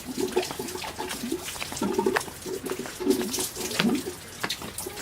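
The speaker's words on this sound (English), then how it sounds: "This is a fountain where you can drink water, right?" Water running from a drinking fountain, a steady splashing flow with bubbling bursts that swell and ease repeatedly, fairly close and moderately loud, with no talk over it.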